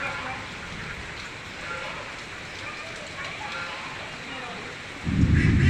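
Steady rain falling over a school field during a fishing contest, a constant wash of patter close around, with a louder burst at the end and people talking over it.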